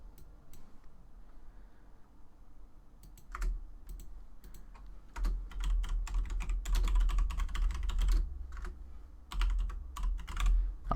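Someone types on a computer keyboard, a close run of rapid clicking keystrokes that comes in bursts with brief pauses and grows busier midway, with no talking.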